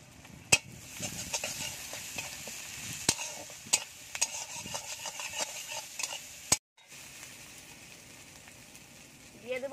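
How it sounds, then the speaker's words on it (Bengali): Ginger, cumin and chilli paste with turmeric is sautéed in a pan, a quiet low sizzle with sharp utensil clicks and stirring scrapes that stops abruptly near the end. "ভালো করে মশলাটা কষিয়ে নিতে হবে।"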